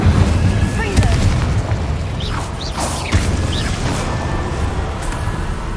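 In the video game Hogwarts Legacy, Confringo and Incendio spells burst with booming explosions and crackling fiery whooshes, layered over a continuous rumbling game soundscape with some voices present.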